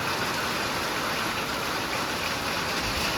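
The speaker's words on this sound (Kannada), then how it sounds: "ಧಾರಾಕಾರವಾದ ಮಳೆ," Heavy rain pours down in a dense, steady hiss that stays even throughout, with no pauses or breaks.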